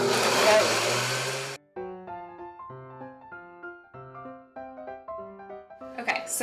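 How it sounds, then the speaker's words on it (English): A kitchen blender purees blueberries with honey in a loud, harsh whir that runs about a second and a half, then cuts off abruptly, leaving a quiet plucked melody playing in the background. "Now you're going to take your blueberries and you're going to add them to your blender."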